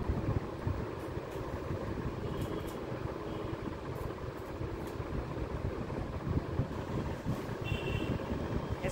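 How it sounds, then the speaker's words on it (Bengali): An air conditioner runs in a home room, giving a steady, faint broadband whoosh and hum of blowing air that continues evenly throughout, with no voices. "এই দেখো এসি চালিয়েছি।"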